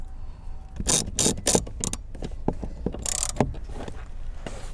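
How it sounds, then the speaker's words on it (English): A hand ratchet with a T50 socket drives screws back into a Lexus car seat mount, giving bursts of sharp, close clicking pawl strokes with brief pauses between them. "let's go ahead and put the 4 corresponding screws back in"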